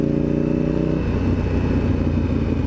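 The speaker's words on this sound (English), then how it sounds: "The downshift here." Honda CBR 954RR motorcycle engine dropping through gears, a loud close rumble whose harmonic tone shifts and turns rough and clattery partway through, steady throughout.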